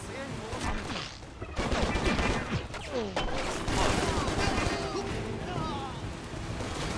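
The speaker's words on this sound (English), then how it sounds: "I saw someone else shooting at me" Rapid gunfire crackles in bursts during a shootout in the action game Stranglehold, mixed with crashes and impacts, while someone talks over much of the loud chaotic action.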